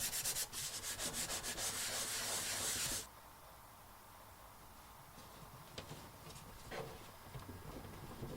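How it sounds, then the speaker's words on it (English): Rubbing and wiping across the corners of a plastic base plate on a VEVOR LFS0206 helping-hands stand, a steady close scrubbing for about three seconds, then quieter intermittent rubbing. "Clean the 4 corners of the base plate."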